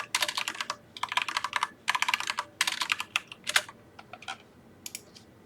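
Rapid bursts of key clicks from typing on a computer keyboard, close and crisp, coming in irregular clusters with short pauses between them, with no voices.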